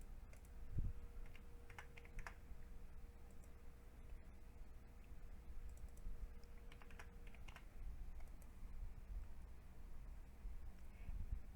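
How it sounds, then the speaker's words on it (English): Numbers tapped out on a computer keyboard in short, quiet bursts of clicks with pauses between them, set against a soft steady hum. "So we type those numbers into the date range."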